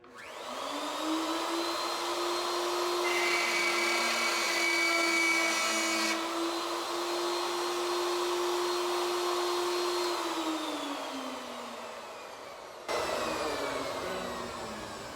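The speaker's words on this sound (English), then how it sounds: "we're going to use the router table" A router table with a 1/4 inch bit cuts a groove in a board, a loud steady motor whine that holds for about twelve seconds before winding down, with no talk.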